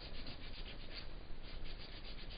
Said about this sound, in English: Very meditative, rubbing your wood, the privacy of your own shop.